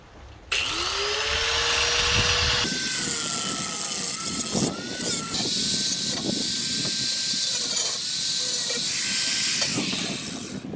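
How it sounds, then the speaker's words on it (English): A power tool cuts metal for a ribbon burner forge: a loud, continuous high whine with hissing grind that rises in pitch as it spins up, held steady for several seconds with small dips as the blade bites. "I'm gonna cut it."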